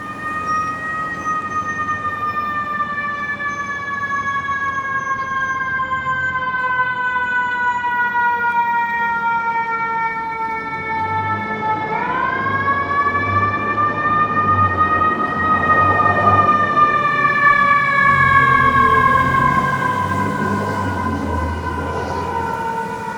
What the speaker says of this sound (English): Hearing sirens off in the distance,